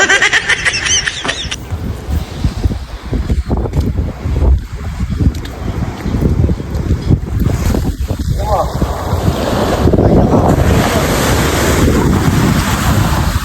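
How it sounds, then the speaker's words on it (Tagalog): Ocean waves at a La Union beach wash in with a continuous roar, buffeted by strong wind noise on the microphone, with a few seconds of other sound at the very start before the surf takes over. "Napakaganda ng karagatan rito mga kapanyero sa La Union."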